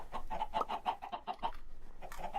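Chickens in modded Minecraft SkyBlock cluck in quick repeated bursts, a brief close run of game clucks with a short pause before more.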